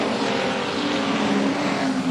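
Street stock race cars racing at Carina Speedway during a final, a loud sustained engine roar with steady droning tones from several cars passing close, continuous and unbroken throughout.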